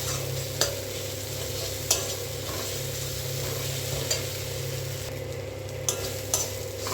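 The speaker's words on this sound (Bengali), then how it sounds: "এইবার আমি তড়কা মশলাটা দিয়ে দিচ্ছি" Tarka masala sizzles in a hot pan for an egg tarka dish while a spoon stirs steadily, with a constant frying hiss and several sharp scrape clicks against the pan at intervals.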